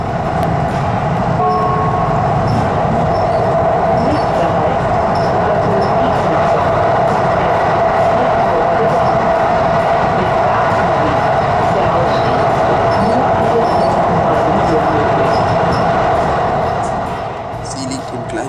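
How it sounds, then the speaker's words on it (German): A regional express train runs from Heilbronn to Crailsheim on the Hohenlohe line, recorded on board as a loud, steady rumble with a constant hum and faint rail clatter under a narrating voice. "Wir fahren nun weiter, bis unser Zug an einer außergewöhnlichen Bedarfshaltestelle vorbeifährt."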